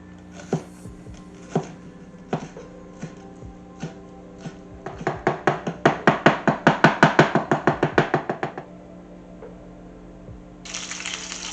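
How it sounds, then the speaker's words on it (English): A knife chops chives, thyme and shallots on a board, starting with a few spaced taps, then a fast even run of crisp close cuts, and ending with a short rustling sound. "I'm gonna chop up some chive and thyme,"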